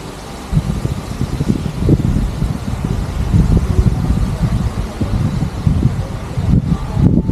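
Strong, gusty wind buffets a rainy, stormy campsite beside a tree in Zambales, a loud continuous roar with rustling and microphone rumble that surges and swells throughout, with no voices.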